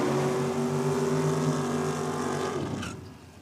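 Holden Torana drag car with a 763 cubic inch nitrous-fed V8 at a drag strip, a loud sustained engine roar with strong low harmonics that fades away near the end, no talk.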